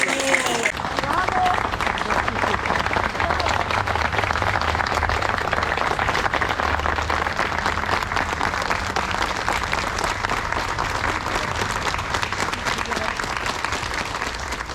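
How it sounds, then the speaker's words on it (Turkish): An audience applauds the honorees at an event celebrating a Turkish performer's 80 years of life and 60 in art, a dense, steady clapping that fills the hall for the whole stretch with an even roar. "Ben onlar kalksın onları alkışlamanızı istiyorum."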